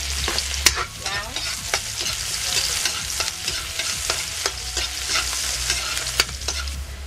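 White onion sautéing in a pan for lumpiang togue, a constant crackling sizzle punctuated by frequent sharp spatula scrapes and taps, near and clear, with no speech.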